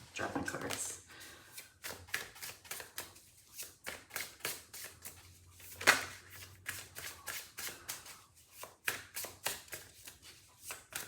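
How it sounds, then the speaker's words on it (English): Tarot cards being dropped and shuffled, a quick run of crisp riffling flutters and soft taps repeating in bursts, close and fairly quiet, with a brief louder slap of cards midway. "Uh-oh, dropping cards."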